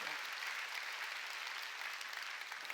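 A church congregation applauds during a Sunday worship sermon, a steady, dense clapping that holds evenly across the whole stretch at moderate volume, with no voices standing out.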